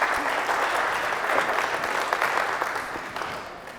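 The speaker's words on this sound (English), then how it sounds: "thank you, Lynn, for that polite round of applause" Polite round of applause from an audience at a morning financial seminar, a steady even patter of many hands that gradually softens toward the end.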